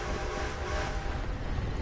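A train rumbles past in Red Dead Redemption 2, a dense, loud, continuous roar of rolling wheels and engine noise filling the short stretch, with no voices over it.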